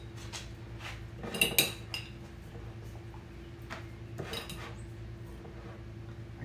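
A pickled cucumber with bits of onion clinging to it is fished out of a glass jar, making close, sharp utensil-on-glass clinks in two short bursts over a low steady hum, with no talking.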